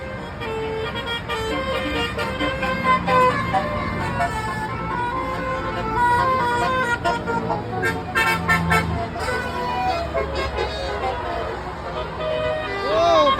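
A convoy of cars passing with melodic telolet horns tooting steadily over continuous traffic noise, loud and close, with people talking throughout.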